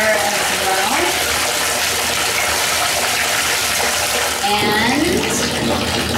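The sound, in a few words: water running from bathtub tap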